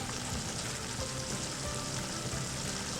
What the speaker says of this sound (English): Now we will let it slowly cook over low heat for about 15 minutes.